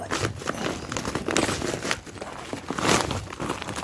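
Icy plastic tarp crinkling and crackling under a foot in a backyard in winter, a steady run of close crunchy rustles and crackles over about four seconds with no talk.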